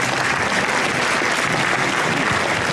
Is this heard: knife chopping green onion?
no